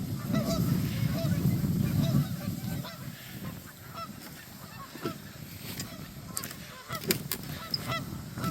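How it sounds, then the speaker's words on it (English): Several geese honk repeatedly at a moderate distance, their calls rising over a low rumble of wind, louder at the start and again near the end. "See the geese."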